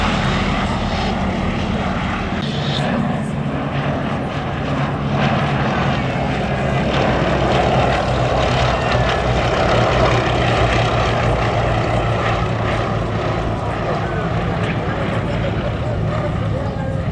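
Gloster Gladiator biplanes fly at a Duxford air display, their propeller engines droning steadily at some distance, with someone talking over the sound throughout.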